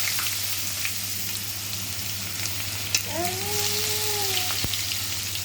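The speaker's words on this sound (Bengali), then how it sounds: "এখন দিলাম তেজপাতা, কয়েকটা জিরে ফোড়ন, এখন দিয়ে দিব হচ্ছে পেঁয়াজ" Bay leaf, cumin seeds and onion sizzle steadily in hot oil, a close, even frying hiss with a low hum beneath and a brief whistling tone partway through.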